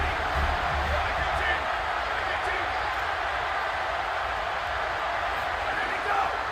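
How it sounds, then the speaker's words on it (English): Simulated home crowd noise at a Stanford at Notre Dame game in the College Football 27 video game, a steady broad roar that holds for the whole stretch without letting up, with a commentator talking over it. "this home crowd getting involved right from the start"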